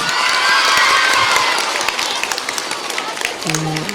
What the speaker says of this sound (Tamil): இதெல்லாம் இந்த மேத்ஸ் டீச்சருக்கான கைத்தட்டல் தான்